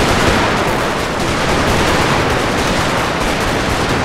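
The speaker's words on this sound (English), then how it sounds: "The artillery here pounding away." Dense, continuous artillery and musket fire from a Total War game reenactment of the 1864 Civil War Battle of Franklin, a loud unbroken roar of overlapping shots with no gaps.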